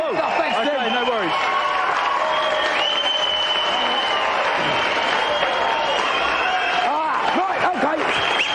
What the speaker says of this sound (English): applause for Steve, the winner in the blue boat